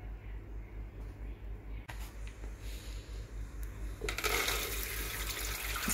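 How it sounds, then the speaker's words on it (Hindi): Water drains off soaked, swollen moong beans in a kitchen, a steady close splashing flow that grows into a louder rush near the end. "अब हम इसका जो पानी है उसको ड्रेन आउट कर देंगे।"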